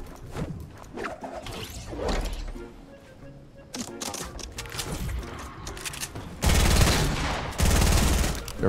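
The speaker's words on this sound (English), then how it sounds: "Keep shooting him down" Rapid bursts of gunfire from a Fortnite Season 6 match, loudest and densest near the end, with scattered shots and impacts earlier and occasional voices underneath.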